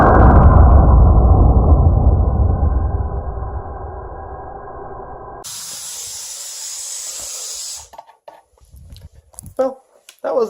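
Loud rushing air from a fast inflator fills a big balloon for several seconds, then a sudden burst cuts it off, followed by scattered faint rustling and handling noises.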